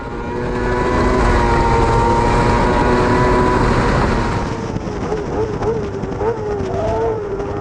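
Race cars at Croft circuit roar past during a club race, one loud engine note swelling and fading before others follow at a distance, with no talk.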